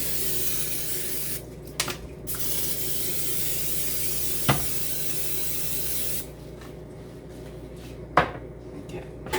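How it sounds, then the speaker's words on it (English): Non-stick cooking spray hisses into a cake pan for a pina colada cake in three close, steady bursts, each a second or two long, separated by short pauses and a few light clicks. "And I just sprayed some non-stick cooking spray."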